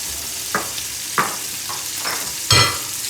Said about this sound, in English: Okay, so melted butter, onions in,